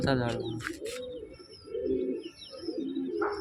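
Male pigeons coo in repeated soft, rolling phrases nearby, with a few short voice sounds at the start.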